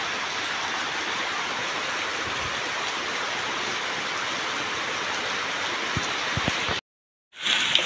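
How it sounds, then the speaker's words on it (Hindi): Steady heavy monsoon rain hisses continuously, a dense wash of falling water with a few faint low thumps near the end before a brief cut in the sound. "प्रबल वर्षा"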